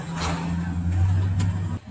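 A stuck truck's engine drones and revs steadily at a muddy concrete pour site, a low sustained rumble that cuts off near the end, with people talking over it.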